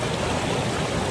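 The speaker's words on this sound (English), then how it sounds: "It's a waterfall." A waterfall at Lake Tahoe gives a steady, dense rush of falling water, loud and close, unbroken across the brief moment with no voices.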